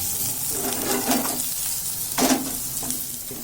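Chopped ginger and green chilies sizzle in a hot pan, with a few distinct stirring scrapes over the steady frying hiss and no voices.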